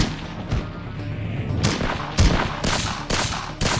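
Gunfire in a shootout in the video game Bloodshore: scattered bursts and sharp shots crack out at irregular intervals over a busy background, loud and close.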